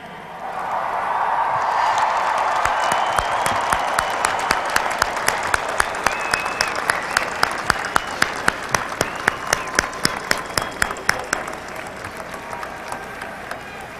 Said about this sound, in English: Graduates, please stand, turn toward your families and loved ones, and cheer.